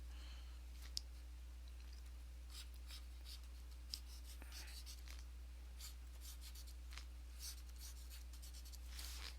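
A pencil sketches a foreshortened comic-book figure on paper with soft, scratchy strokes in short bursts, close and quiet over a steady low hum.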